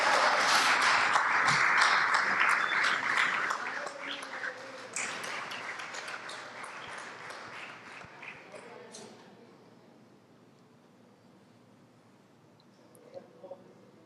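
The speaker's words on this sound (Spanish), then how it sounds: "Démosle otro aplauso al Señor" A church congregation applauds in a dense wash of clapping that swells loud, then thins and fades out after about nine seconds, leaving a quiet hall with a few faint sounds and a voice.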